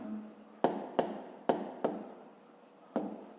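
Pen or chalk writing out a math exercise, a soft scratchy stroke with several sharp taps as marks are made, close and quiet, with no talking.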